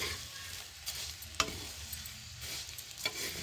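Flattened rice (chura) being stir-fried in a pan with chillies and garlic, with a steady close sizzle broken by sharp scraping strokes of a spatula against the pan, repeated a few times.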